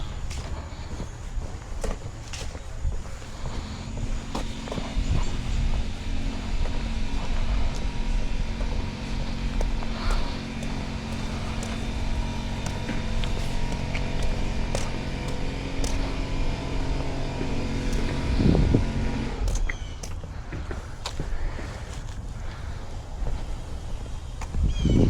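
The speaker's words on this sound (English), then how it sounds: "He should be blowing the lines out in this pool," Compressed air blowing out the plumbing lines of an inground swimming pool for winterizing: a loud continuous roaring hum and rush that holds steady for most of the stretch before easing off.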